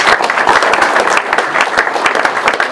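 Firefighters at a Sainte-Barbe celebration in Malestroit-Ruffiac applauding themselves, a loud, dense, steady round of many hands clapping that continues without pause.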